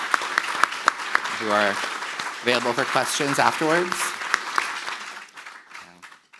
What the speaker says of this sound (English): let's give a last round of applause to our panelists